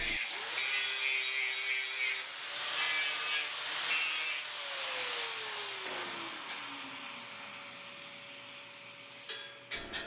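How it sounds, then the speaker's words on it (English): Grinder working the front welds off a steel swing arm, a steady continuous whine with shifting pitch as the tool loads and unloads, close and sustained throughout. "Now you're going to want to grind just the front welds off the swing arm."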